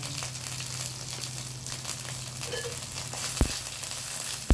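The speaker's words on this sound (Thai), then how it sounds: "ผัดเครื่องให้หอมนะคะ" Thai curry paste frying gently in a pan over low heat for a fish curry, a soft, even sizzle with faint crackles and a sharp utensil knock near the end.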